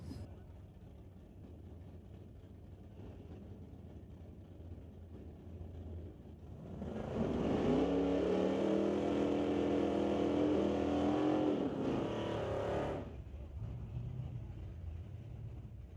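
Drag cars launch in a non-electronics semifinal round of an eighth-mile race, a loud engine roar rising sharply after a quiet idle, holding for several seconds, then cutting off to a distant rumble.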